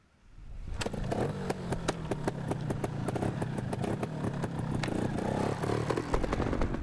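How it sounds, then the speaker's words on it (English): A trials motorcycle engine fires up after a brief quiet moment and settles into a close, steady running rhythm with blips of revving and mechanical clatter, continuing to the end. "Start your engine."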